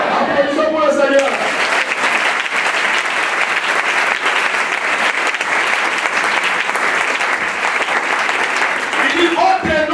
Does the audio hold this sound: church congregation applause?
yes